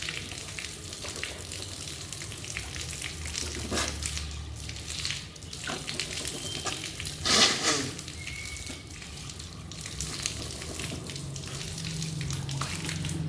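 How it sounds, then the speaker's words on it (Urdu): Running water splashes and gurgles at a sink during wudu ablution as water is drawn into the mouth and nose for rinsing, a steady close wash with a brief louder splash midway. "اب ہم ناک اور منہ میں ایسے پانی چڑھائیں گے۔"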